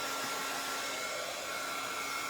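A hair dryer blows steadily and alone at close range, its even whir drying fresh paint on a handmade rustic farmhouse-style wooden windmill.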